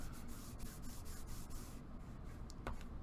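Paper is burnished by hand onto a craft camera box, with a quick run of soft, close rubbing strokes in steady rhythm that fade to a quieter pause near the end.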